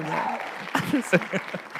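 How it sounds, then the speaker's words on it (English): A studio audience at a live radio stream breaks into brief, scattered clapping mixed with voices talking and reacting close by. "Yo, clap again."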